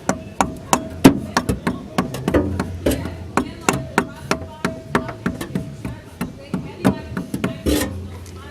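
Rapid hammer blows driving a drive shaft into the transmission of a Nissan S13 with an SR20DET swap, done on rocks: about two dozen sharp metallic whacks at a steady, fairly quick rhythm, close and loud with no talking.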